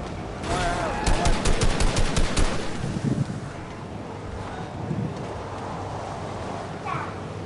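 Rapid automatic gunfire from a video game rattles in a quick burst of repeated shots up close, then fades into softer distant noise with a few faint pops.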